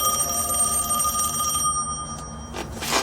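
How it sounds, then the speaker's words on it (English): A telephone bell rings steadily and loudly in a quiet room, its trilling sustained for a few seconds before cutting off, with no voices over it. "But then the phone rings."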